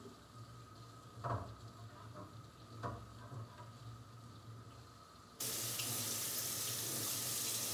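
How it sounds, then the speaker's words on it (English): Tap water runs steadily over a kitchen sink while a knife is rinsed clean, with a few brief clinks early on, then the flow turns louder and fuller near the end, close and without talk. "do want to clean this knife off better because I'm gonna need it for that white chocolate"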